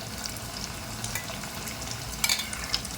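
Pieces of arbi (taro) fry in hot oil with a continuous close-up sizzle and bubbling, and a few sharper crackles and spatters near the end.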